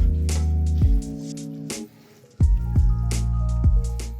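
Tomato sauce with garlic in a small pan bubbles and splatters in thick, wet pops and squelches, close and loud, with a brief lull midway before the popping resumes, and no talking.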